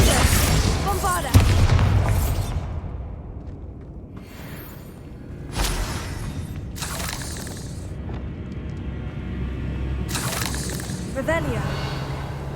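Bombarda spell explosions boom in Hogwarts Legacy: several deep blasts with crackling debris, spaced through the stretch amid other spell effects, while someone speaks spell names over the action.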